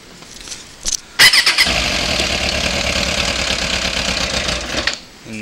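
A 2006 Suzuki GSX600 motorcycle with a stock exhaust, suspected stuck carburetor floats, cranks on the starter: a few short clicks, then a loud sustained whirring, grinding crank for several seconds that half catches without firing and cuts off, up close.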